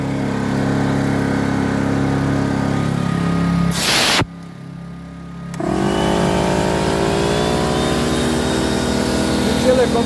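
An AKSA inverter generator runs steadily under load with a compressor, its engine drone interrupted by a brief loud burst and a dip before the compressor comes on with a rising, heavier roar.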